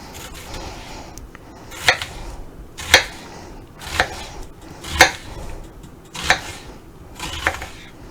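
A knife chops through half an onion in a home kitchen with sharp, evenly spaced strikes, about one per second. Seven or so distinct hits sound close and clear over a low, quiet background.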